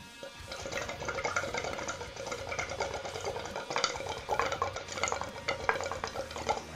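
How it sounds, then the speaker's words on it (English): Water in a Blaze Climax glass water pipe bubbles and gurgles continuously at close range, with no smoke in it. A busy, moderately loud churn of small pops and splashes continues throughout. "So here's it bubbling."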